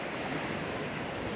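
Caribbean sea waves washing onto a sandy beach, a steady, even wash of surf with no distinct breaks, fairly close and moderately loud, with no voices.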